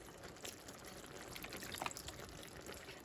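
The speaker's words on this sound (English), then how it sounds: "I'm going to add a little bit more of my broth." Chicken broth pours into a pan of chicken stroganoff on the stove, a faint, soft trickle and splash that runs on without any talking.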